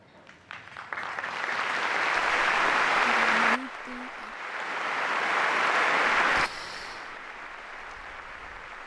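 A large crowd at Pope Francis's general audience applauds after the apostolic blessing; loud sustained clapping swells, dips briefly, then builds again before cutting off sharply, with a brief voice or tone heard partway through.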